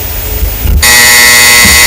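Quiz show buzzer sounding abruptly after low room noise, a loud steady electronic tone that holds for about a second until the clip ends.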